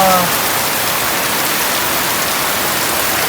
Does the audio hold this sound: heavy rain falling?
yes